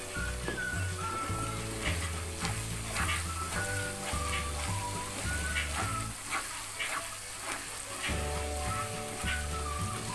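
Balado spice paste frying in a pan gives off a steady sizzle while a spoon stirs it, with music playing over the cooking.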